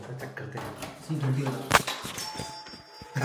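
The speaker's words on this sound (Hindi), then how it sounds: "काफ़ी अच्छी घंटी बज रही है।" A bright doorbell chime rings out once amid indoor clatter and footsteps, leaving a thin ringing tone that fades.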